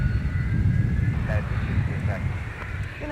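An Airbus A300 airliner at MSP airport gives off a steady, broad jet rumble that holds throughout, with a voice talking over it.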